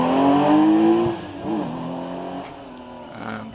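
1973 hillclimb race car at Prescott accelerating uphill, engine note rising in pitch then dropping through a gear change and fading as it pulls away, fairly loud at first and then more distant.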